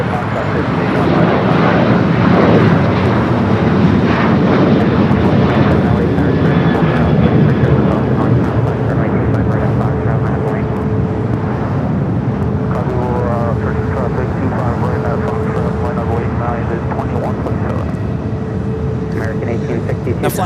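An American Airlines Boeing 737 rolls down runway 25 right at LAX, loud sustained jet engine roar with a whining tone building and holding throughout, close by, with someone speaking over it.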